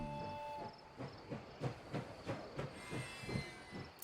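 A train in the Last Train Home video game pulls into a station, rolling with a regular clickety-clack rhythm of wheel thumps and some hiss, fairly close and alone with no voices.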